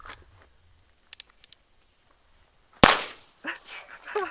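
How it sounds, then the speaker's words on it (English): A single sharp, loud gunshot cracks out at a can and a 2 liter bottle, preceded by a few faint clicks and followed by brief rustling and impact noise. "Shoot it again."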